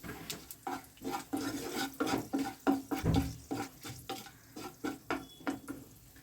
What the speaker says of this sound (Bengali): এখন এখানে ফোড়নে দিয়ে দিচ্ছি একটা তেজপাতা দুটো এলাচ আর দুই টুকরো দারচিনি